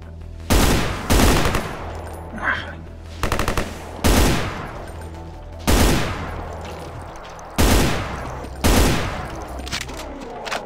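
Bursts of heavy gunfire in the shooter game Brutal Doom, loud rapid volleys repeating in roughly six clusters with short gaps between them.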